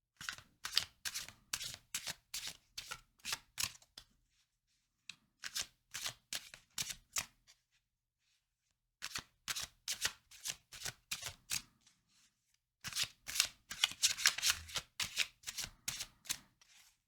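Playing cards are riffled and snapped down in quick rhythmic bursts, close and crisp, in four separate runs with short silent gaps between them.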